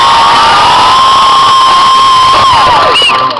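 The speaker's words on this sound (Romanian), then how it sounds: "aplauze să aud acum." Crowd at a summer camp show in Romania cheering and shouting loudly, with high children's voices and whistling over a dense, steady roar that fades at the end.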